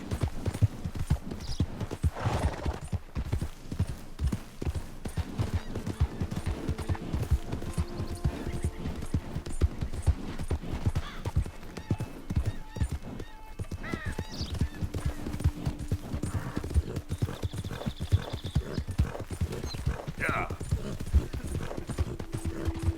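Horse hooves pound in a fast, continuous gallop in Red Dead Redemption 2, loud and close throughout, with game music and scattered effects beneath the rapid rhythm.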